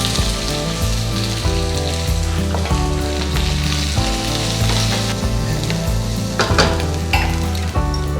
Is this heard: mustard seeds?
yes